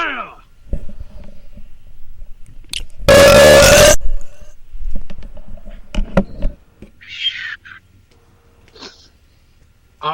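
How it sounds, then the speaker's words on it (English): A loud, drawn-out belch after eating a tuna fish sandwich erupts in one dense burst lasting about a second, set among scattered voices and short noises. "I smell a little chateau of tuna in that belch."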